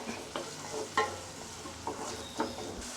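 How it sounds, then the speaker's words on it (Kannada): Chopped onions frying with cumin in a pan for paneer matar masala, a soft steady sizzle broken by occasional clicks and scrapes of stirring, quiet and close with no talking. "ಈರುಳ್ಳಿನ ಚೆನ್ನಾಗಿ ಫ್ರೈ ಮಾಡ್ಕೊಳ್ಳಿ."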